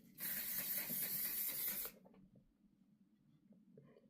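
Makeup setting spray misting from a pump bottle, one sustained close hiss lasting nearly two seconds before cutting off into near silence.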